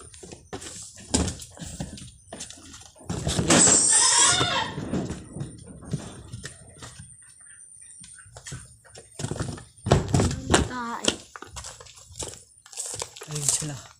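Goats bleat a few times amid rustling and crinkling, with people talking in Filipino nearby between the calls; sheep are kept with them.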